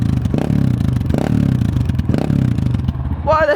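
A 250 motorcycle with its exhaust baffle removed revs in repeated throaty bursts, a loud, close, rhythmic blat rising and falling about three times, with a voice briefly heard at the end.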